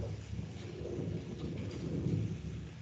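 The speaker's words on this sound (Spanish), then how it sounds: "es ese trueno que no, que lo tiene asustado" Thunder during a rainstorm, heard from indoors as a steady, low rumbling roll with a rain-like hiss. It stays fairly loud and continuous throughout and no one speaks.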